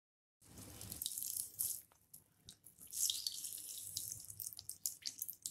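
Water squeezed by hand out of grated cauliflower for paratha dough, running and splashing into a vessel in uneven bursts, close and alone with no talk.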